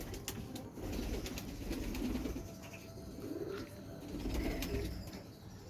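Rampuri pigeons coo at a pigeon market in Lahore. Several soft, repeated coos sit close by, with faint flutters and rustles against steady background noise.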